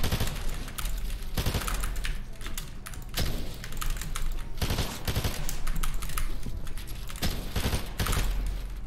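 Rapid automatic gunfire from a drum-magazine gun in an Unreal ranked match, loud sustained bursts in close succession with brief gaps, mixed with other game noise.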